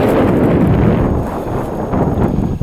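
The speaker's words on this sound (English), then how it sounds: "Starting to get kind of windy out here." Strong wind buffets the microphone in a loud, continuous roar that surges and eases slightly, with no voices.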